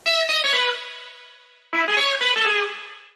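A melody built from an electronic beep, shaped with distortion, chorus and reverb into bright, buzzy synthetic tones; two loud phrases each start sharply and fade away, with no speech.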